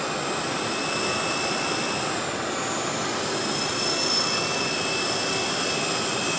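Helicopter hovering in place, a steady, loud broadband rotor and turbine roar with a constant high whine, close and continuous, with no voices.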